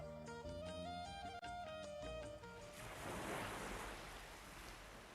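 Sea waves rise and fall around a seaside dargah, a steady broad wash of surf that swells into a louder rush after a few seconds of fading instrumental music, with no voices.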